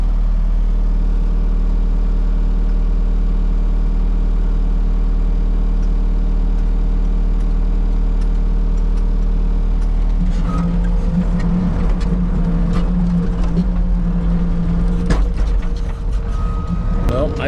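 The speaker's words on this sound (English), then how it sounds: "Our truck is pulling up right now." A truck engine idles as it pulls up to a driveway replacement job, a steady deep rumble with a strong low hum that grows rougher and busier toward the end, with scattered clanks and a voice.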